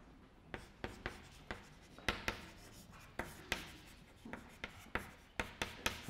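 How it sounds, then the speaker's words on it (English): Chalk or marker taps and scratches across a board as a theorem is written out during a programming lecture. Quiet, close, rhythmic strokes follow one another at irregular intervals, with no talking. "Let me write this down."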